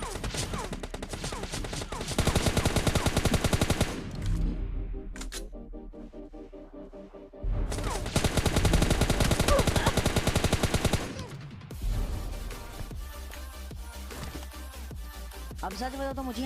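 Gunfire in the battle royale game PUBG roars in long loud automatic bursts with short quiet gaps between volleys, accompanied by a player's voice and game sounds.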